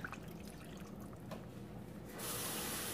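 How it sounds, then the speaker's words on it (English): Water pours from a tap into blended peppers for yam porridge, a quiet steady splashing trickle that grows fuller and brighter toward the end. "So I'm gonna add a little bit of water because I don't have enough water in the blended peppers."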